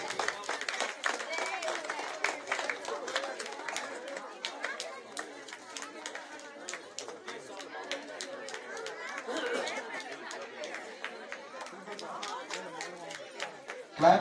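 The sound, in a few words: audience clapping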